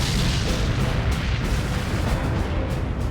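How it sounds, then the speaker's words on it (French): Krupp 77 mm field gun firing on tanks in a World War I battle, heavy dense booms and rumbling blasts overlapping loudly and continuously, with no voices. "Le canon de campagne Krupp de 77 mm."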